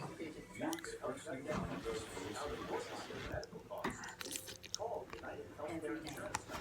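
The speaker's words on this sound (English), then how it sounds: "Okay, I gotta taste test it." Close, wet chewing and biting on a forkful of homemade zoodles with garlic chicken, steady mouth sounds with soft crunches filling the few seconds, a faint whisper-like voice underneath.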